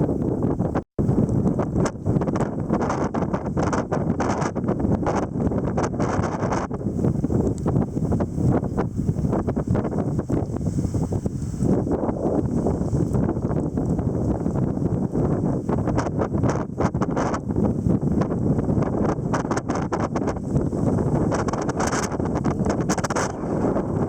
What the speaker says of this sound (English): So blustery. It's definitely second season winds.